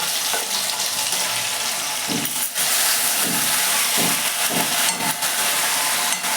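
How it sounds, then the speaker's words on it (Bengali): Ground spice paste of ginger, almonds, cashews, green chilli and garlic hits hot oil after whole-spice tempering, giving a loud, steady sizzle and hiss with a few soft stirring scrapes, close up, with no voices. "এবার ফোড়নটা হয়ে গেছে, এবার এই বাটাটা সব দিয়ে দিচ্ছি।"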